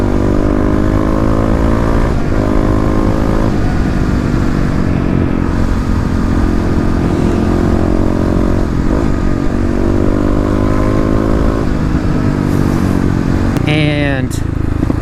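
A Kawasaki KLX351 motorcycle with fuel injection runs close and loud, its engine note rising and falling with blips of the throttle and a sharp rev near the end, with a voice talking over it.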